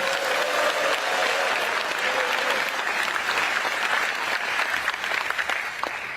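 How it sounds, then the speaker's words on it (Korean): Steady, sustained applause from a large audience at a Korean political gathering, dense and even throughout with faint crowd voices and a few whistles mixed in, fading slightly toward the end. "우리 이재명 대통령께 박수 한번 쳐드리면서 시작하면 어떨까요?"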